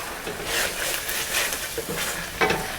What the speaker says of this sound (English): going to fry a little bit more until all the oil flows to the top